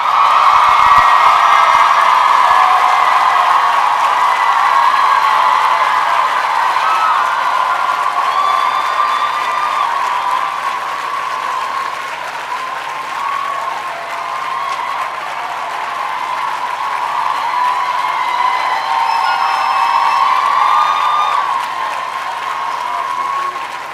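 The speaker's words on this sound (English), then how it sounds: "stand and give the kind of applause that will raise the roof for your loved ones" Standing ovation from graduates and families at a university presentation-of-graduates ceremony in a large hall, sustained thunderous applause with cheering and whoops for over twenty seconds, full and steady throughout.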